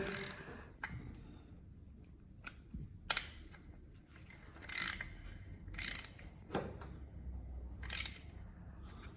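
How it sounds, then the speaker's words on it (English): A 17 mm wrench tightening the oil filter on a Ducati 696 motorcycle, quiet irregular metallic clicks and ratcheting taps scattered across several seconds, close and alone. "Now with your 17, you're going to tighten the filter a bit."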